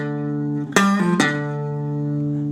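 Short blues guitar lick, three quick picked notes bending together over a sustained ringing open tone, played alone and clearly.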